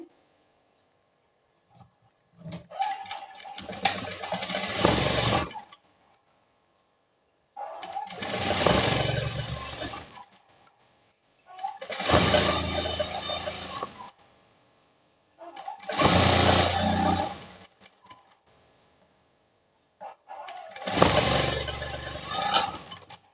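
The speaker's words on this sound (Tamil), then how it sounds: "நான் வந்து ஒரு தையல் போட்டுக்கிறேன்" An electric sewing machine stitches elastic fabric for a hair band in a home tailoring setting, running in five separate bursts of a few seconds each with quiet pauses between, close and fairly loud.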